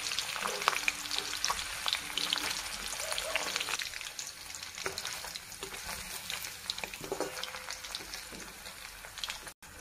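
Paneer pieces frying in oil in a pan for palak paneer, a steady close sizzle with stirring scrapes throughout, no talking.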